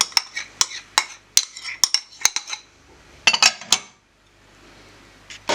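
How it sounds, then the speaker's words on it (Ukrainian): A metal spoon stirs strawberries and sugar in a bowl, making a quick run of bright clinks and scrapes against the sides. A brief pause follows, then a few more taps, all close up. "Та полуницю і гарно все перемішую."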